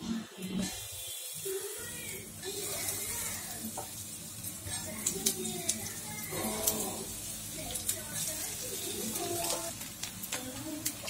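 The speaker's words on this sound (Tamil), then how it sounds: "நான் எங்க ஷாலோ ஃப்ரை பண்றேன்." Soya meal maker cutlets shallow frying in hot oil in a pan, a steady bubbling sizzle with occasional crackles and stirring clicks, someone speaking over it at moments.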